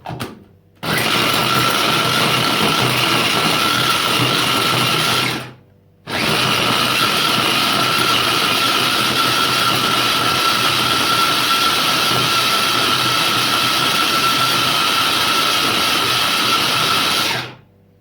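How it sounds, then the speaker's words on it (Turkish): A blender whirs loudly and steadily, chopping dates, pauses for a moment, then runs again for a long stretch before cutting off. "hurmaları şimdi blender'a aktarıyoruz ve bunları iyice bir parçalıyoruz"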